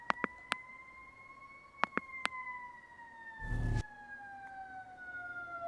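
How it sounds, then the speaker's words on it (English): A fire truck siren passes in two steady wailing tones that fall slowly in pitch, fairly quiet, with a few sharp clicks and a brief burst of rustling handling noise partway through. "Waiting for the ambulance or whatever, the fire truck to go past."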